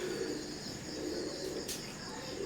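Teddy pigeons coo softly in low, rolling murmurs against a steady background hum, with a brief bright rustle or flutter partway through.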